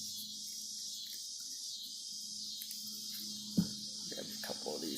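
A constant high, shrill drone of cicadas hums throughout, steady and loud, with a few faint low knocks and rustles underneath.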